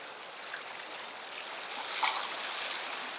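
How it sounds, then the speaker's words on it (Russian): Steady broadband rush of water pouring strongly out of a canal in Iran, constant and fairly loud without pauses or voices. "Так, ну здесь прям вода течет. А, вода выходит с канала."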